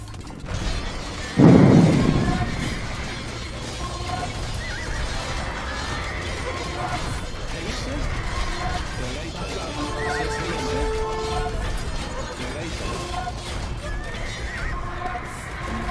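Horses neighing and hooves clip-clopping among cavalry archers in an Age of Empires–style strategy game; one loud whinny near the start, then a steady mix of hoofbeats and battle clatter under ongoing voice chat.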